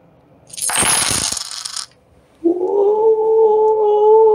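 Cash App donation alert: a loud burst of jingling coins spilling for about a second, a brief pause, then a sustained, warbling low tone held to the end, with no voices.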